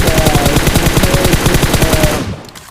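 Rapid automatic gunfire in a mobile battle royale game, loud and close, a steady burst of shots sustained for over two seconds before cutting off abruptly into quiet.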